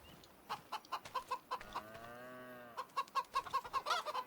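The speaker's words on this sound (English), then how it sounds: "I have some chickens." Chickens on a farm in Farming Simulator 25, a rhythmic run of short clucks with a longer drawn-out call in the middle, near and clear with no talking.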